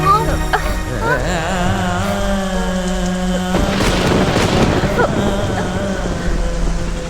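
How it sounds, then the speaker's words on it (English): Thunder rumbles and booms through heavy rain, a loud deep surge building midway under a continuous wash of rainfall, mixed with tonal music and sound effects. "Are you scared of that thunder?"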